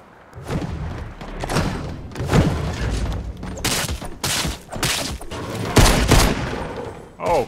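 Fortnite gunfire erupts in bursts of rapid shots and heavy thuds, loud and close, with repeated volleys and short pauses between them, game combat noise throughout.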